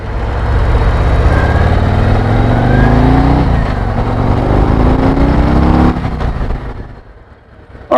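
A Harley-Davidson Road Glide motorcycle engine on the move, a loud, close rumble with rising and falling pitch as the rider works the throttle, easing off and fading near the end.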